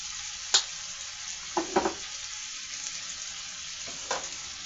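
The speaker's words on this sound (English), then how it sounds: "You see the egg cooking over there?" An egg frying in a pan with paprika, alongside sausage and potato, gives a steady close sizzle with a few sharp clinks and scrapes of a utensil against the pan, with no talking.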